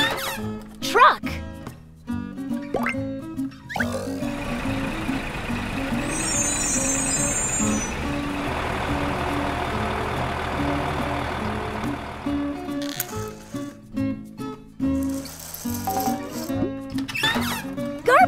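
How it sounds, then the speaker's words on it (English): A truck engine idles and rumbles with rattling and air-brake hiss, a steady mechanical drone that follows a spoken word and gives way to more talk. "Truck."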